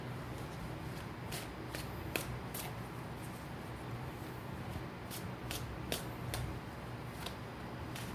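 Tarot cards being shuffled, a steady run of soft papery riffles and crisp slaps of the deck at close range with no talking.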